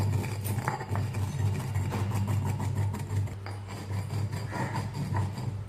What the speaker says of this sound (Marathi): असं बत्त्याने चांगले तांदूळ असे गोल गोल फिरवून घ्यायचे